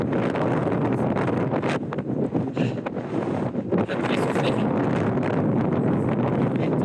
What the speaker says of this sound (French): Il y a de la neige, il fait froid, du vent.